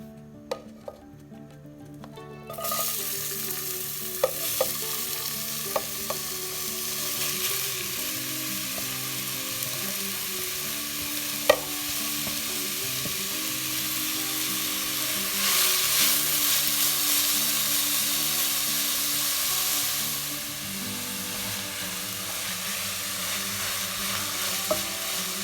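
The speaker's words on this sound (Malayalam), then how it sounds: "അതേ പാനിൽ നെയ്യോടൊപ്പം ഒരു 2 ടീസ്പൂൺ കൂടി ചേർത്തിട്ട് ഇനി നമുക്ക് ഈ ചുരക്ക ഫ്രൈ" Steady sizzling of grated bottle gourd frying in ghee in a pan, with occasional clinks of a spoon stirring, a steady background hum and no talk.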